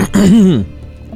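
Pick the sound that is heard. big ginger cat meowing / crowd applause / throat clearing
throat clearing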